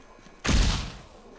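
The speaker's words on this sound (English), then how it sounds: "Flashbang!" A flashbang grenade goes off in Call of Duty: Black Ops, a single sudden muffled burst that fades over about half a second, with no talk over it.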